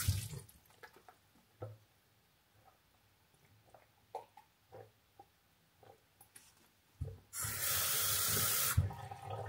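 Water gushes from a household tap into a sink for a couple of seconds, loud and close, after a stretch of quiet with a few faint clicks and knocks.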